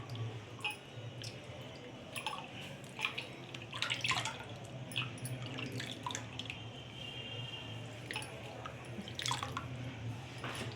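Curd rasam (perugu charu) in a pot on the stove begins to simmer, giving soft bubbling and popping close by over a steady low hum.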